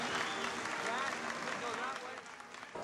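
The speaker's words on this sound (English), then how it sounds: "The president was interrupted by applause 17 times during his 20-minute speech." An audience applauds a president's speech at a large Republican fundraiser, a broad, continuous wash of clapping that sounds somewhat distant and eases slightly toward the end, with a voice speaking over it.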